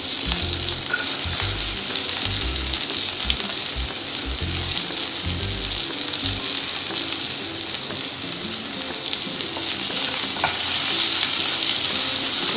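Chopped onions sauté in a hot pan while making a chicken dish, giving a steady, close sizzle and crackle with occasional stirring scrapes throughout, no voices.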